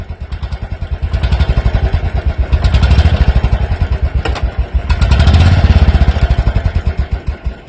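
Royal Enfield motorcycle engine thumping in a steady, close, loud pulse, rising and falling in intensity around gear shifts with occasional clatter.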